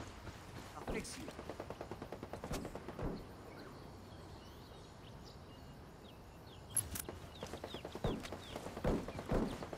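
Gunfire from a firefight in the video game Ghost Recon Wildlands: bursts of sharp shots crackle in short rhythmic volleys, with louder cracks near the start, middle and end, set over a steady background bed.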